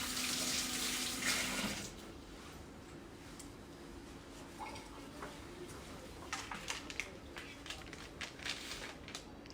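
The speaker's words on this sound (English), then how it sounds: "I'll just give my hands a quick rinse" Tap water runs steadily at a moderate distance as hands are rinsed after rolling cacao chocolate truffles in a home kitchen, a louder splash at the start easing into a softer continuous stream with a few light clinks.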